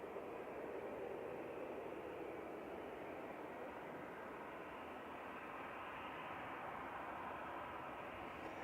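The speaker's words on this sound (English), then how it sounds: "There's EasyJet from Isle of Man just touching down" An EasyJet airliner from the Isle of Man touching down at Manchester Airport, a steady, even roar of engine and rushing air at moderate distance, unchanging throughout with no voices.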